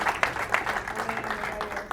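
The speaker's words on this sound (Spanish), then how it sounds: "Vamos a dar un aplauso a Blanca y a Blanquita" A church congregation applauds during a sermon, with many hands clapping in a fairly steady wash and a few sharper claps standing out near the start.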